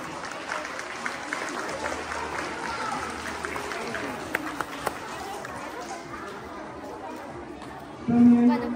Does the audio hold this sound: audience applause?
yes